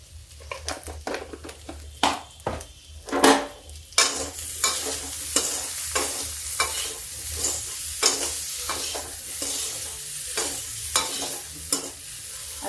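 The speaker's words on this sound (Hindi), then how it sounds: "आलू मेरी भून गई है।" Potato pieces frying in a pan while being stirred: loud, close scraping strokes of a spoon against metal come in quick irregular bursts over a continuous oily sizzle that grows denser in the second half.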